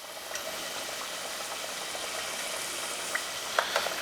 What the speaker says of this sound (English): Fry these about like 3 or 4 minutes. You can already see they're getting like so nice and crispy.